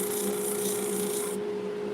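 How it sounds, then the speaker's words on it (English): Sandpaper is rubbed across a chipped wooden edge in a continuous, loud, close rasping stroke with no talking. "I might just work it out a little bit with the sandpaper."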